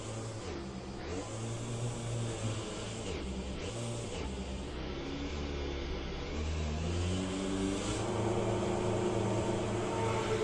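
Race car lapping Sebring in the video game Le Mans Ultimate during a GTE daily race, a steady engine drone with shifting revs and gear changes, heard alone without talk.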